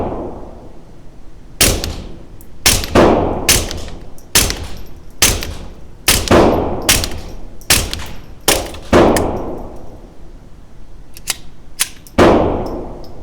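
A Sig P322 pistol fires about a dozen sharp, loud reports outdoors, spaced irregularly in quick pairs and singles, each ringing briefly before the next.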